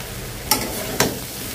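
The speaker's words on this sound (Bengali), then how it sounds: "শুটকিটা এভাবে ভেজে নেবেন পানি ছাড়া" Dried loitta fish frying in oil with turmeric and chili, a steady soft sizzle broken by two quick spatula scrapes.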